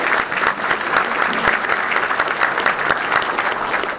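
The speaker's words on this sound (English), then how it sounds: "So I think our engineering department deserves a round of applause for that as well." An audience claps steadily for a city engineering department during a State of the City address in Hoover, Alabama, with dense, even applause filling the whole stretch and no voices.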